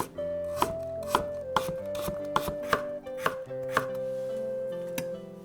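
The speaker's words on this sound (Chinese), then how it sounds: "切胡萝卜，切成小片儿" A knife chops carrot into small pieces on a cutting board, about nine crisp, evenly spaced cuts that land close and clear while soft music plays underneath.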